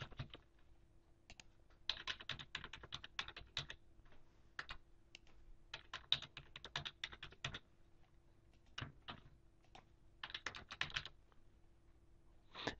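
Someone types on a computer keyboard while filling in provider information in a medical registry form, giving quiet, close bursts of rapid key clicks separated by short pauses.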